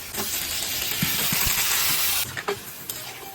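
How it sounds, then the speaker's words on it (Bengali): Water hits frying spices and potatoes, sending up a loud, continuous hissing sizzle that cuts off sharply partway, then gives way to quieter bubbling and a few stirring knocks. "এরপর আমরা দিয়ে দেবো মধ্যে জল।"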